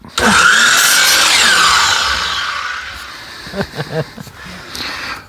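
Power saw cutting wood for a DIY craft project: a loud, close high whine that runs for about two seconds and winds down, followed by brief clunks and handling noises.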